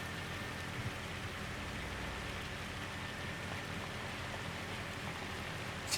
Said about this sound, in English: Stupid hail.